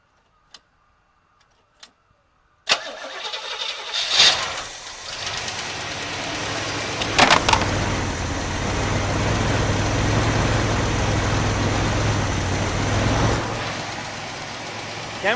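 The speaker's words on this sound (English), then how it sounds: "this is the very first time firing this 403 up" A 1979 Oldsmobile Cutlass with a 403 V8 cranks, catches and settles into a loud, smooth, steady idle close by, with a ticking valvetrain beneath the rumble after a few quiet clicks before the start.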